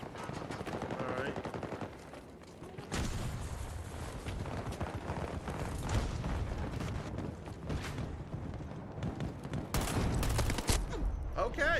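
Rapid automatic gunfire from a Battlefield video game, dense bursts of machine-gun fire with sharp shots and louder volleys near the end, loud and continuous throughout.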